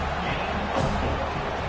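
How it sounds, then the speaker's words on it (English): A Florida State football stadium crowd roars in a dense, steady wall of noise, loud and continuous throughout, with a slight swell midway. "listen to this crowd noise. This stadium is vibrating"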